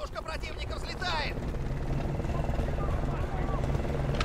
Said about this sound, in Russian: Вертушка противника взлетает!